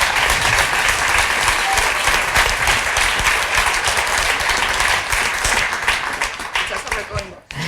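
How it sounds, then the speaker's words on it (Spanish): An audience at a book presentation applauds loudly and continuously, a dense wash of clapping that fades out toward the end. "voy a pediros por favor un aplauso para Ana Cermeño, Itxaso Redondo, Raquel Mar"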